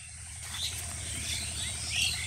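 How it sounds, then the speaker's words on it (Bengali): Birds chirp and twitter outdoors among green trees and vegetable fields at Belai Beel, Gazipur, in high, scattered calls over a steady insect-like hum and low background rumble, no talking. "পাখির কলকাকলি"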